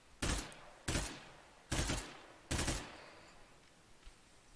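Four loud, evenly spaced gunshots boom from the test gun in State of Decay 2, each blast decaying briefly before the next, with no talking.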